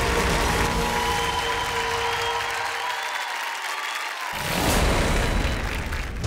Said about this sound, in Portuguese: o vosso aplauso para Maria Inês Graça